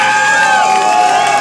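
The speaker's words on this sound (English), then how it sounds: "once again, big round of applause" Wedding reception guests cheering and whooping loudly after the couple's first dance as husband and wife, a close, dense crowd roar with a few voices rising above it.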